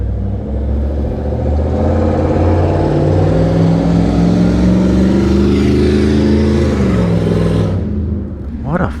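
A motorcycle engine runs steadily at close range with a loud, continuous low rumble, the pitch rising slightly before the sound cuts off near the end.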